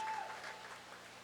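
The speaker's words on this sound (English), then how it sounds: "North Penn fans cheering on their girls" Fans applaud and cheer at a girls high school water polo game, a steady, fairly distant wash of clapping from the stands that lasts throughout.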